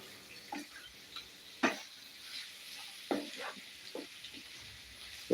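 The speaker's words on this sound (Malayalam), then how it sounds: "അപ്പോൾ നമുക്ക് നന്നായിട്ട് ഒന്ന് ഇളക്കി കൊടുക്കാം കേട്ടോ" Spoon scraping and stirring chicken masala in a pan, a series of soft, irregular scrapes and clinks spaced about a second apart over a faint background sizzle, with no talking.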